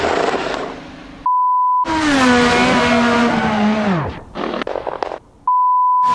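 A Formula Americas 2020 race car in an Assetto Corsa racing simulator squeals its tires and whines as it spins off the track at Circuit Thermalito. A loud, sustained slide with falling pitch sits between steady electronic beeps.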